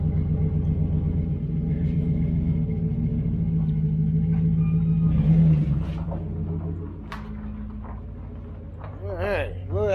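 A Chevrolet Silverado fitted with a new Flowmaster exhaust starts up and runs with a steady, deep low rumble that swells in the middle, while people talk nearby.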